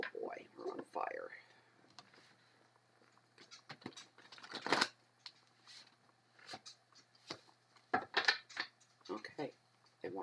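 Tarot cards are shuffled by hand during a reading, giving soft, irregular riffles and taps at close range alongside occasional quiet talk.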